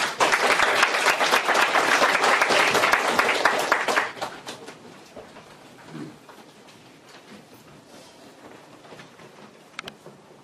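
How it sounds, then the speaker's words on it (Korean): Audience applause welcoming a speaker at a philosophy colloquium, dense and loud for about four seconds, then fading to a quiet room with a few scattered sounds. "큰 박수 부탁드립니다"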